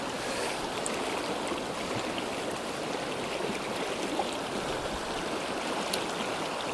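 A salmon river flows in a steady, broad rushing wash close by, continuous and even throughout, with no voices.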